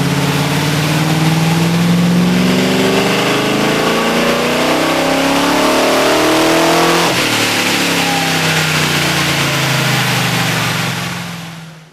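A tuned car engine on a dynamometer revs up steadily, its pitch climbing for several seconds to about 4,800 RPM before a sharp drop. The sound is loud and close, with no voices.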